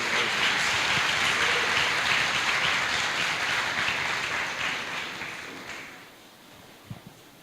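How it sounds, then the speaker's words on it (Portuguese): An evangelical congregation applauds to welcome a pastor to the pulpit, a loud, dense burst of clapping that tapers off and fades to near quiet, with one small tap near the end. "Vamos receber o pastor Edno com palmas para Jesus"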